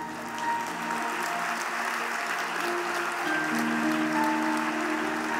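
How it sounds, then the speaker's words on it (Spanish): Congregation at an international church congress clapping in a dense, steady wash for several seconds, with sustained musical tones running beneath and no speech. "aplauda al Señor"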